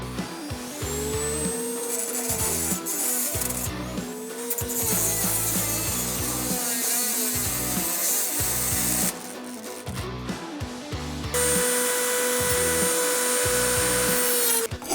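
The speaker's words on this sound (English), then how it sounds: "I couldn't find anything that small at Bunnings, but I did get this, and I'm going to cut it down." A power tool cuts down a small metal strap for a classic VW Beetle reservoir, loud close grinding in repeated bursts with brief pauses, the pitch bending as the cut loads and eases, ending in a steadier sustained cut.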